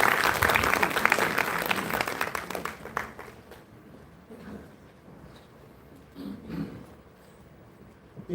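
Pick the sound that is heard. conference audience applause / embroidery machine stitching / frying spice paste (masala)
conference audience applause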